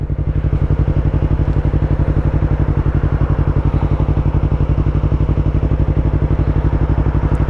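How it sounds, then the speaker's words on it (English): A Yamaha R3 motorcycle engine chugs loudly up close while engine braking in first gear, its rapid firing pulses steady and even throughout, with no voices. "the engine braking on 1st gear on these bikes is something crazy"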